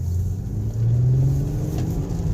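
An Infiniti Q50 Red Sport engine humming in second gear around 3,000 to 3,500 rpm during a 30 mph roll, a steady close cabin drone that rises briefly in pitch and volume as it revs, with no talking.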